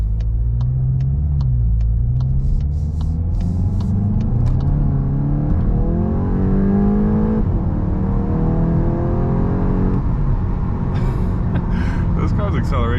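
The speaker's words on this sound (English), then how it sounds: "This car's acceleration is very impressive." Engine rumble from a Volkswagen MK8 GTI climbs steadily as the car accelerates hard, pitch rising through the gears in close, loud, continuous sweeps, with a few faint clicks and brief higher chirps on top.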